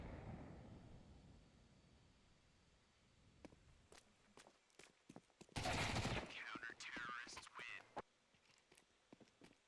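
Gunfire from a competitive CS:GO-style pistol round in an ESEA NA Intermediate match: several sharp, fairly faint shots and footsteps, with a louder burst of firing in the middle.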